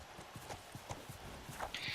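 A horse in The Last of Us walks with regular, distinct clip-clopping hoofbeats, moderately close, before a short bright game sound rises near the end.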